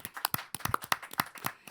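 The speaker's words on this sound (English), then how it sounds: "a warm welcome and a round of applause for Meredith Glazer here" A small audience at a public-space talk gives scattered applause to welcome a guest. The claps are quiet and sparse, with distinct individual claps rather than a dense roar.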